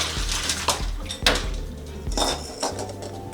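Hard-boiled eggs are drained from an ice-water bath in a pot, with a quick run of clanks and clinks of metal and eggs knocking against the cookware, close and fairly loud.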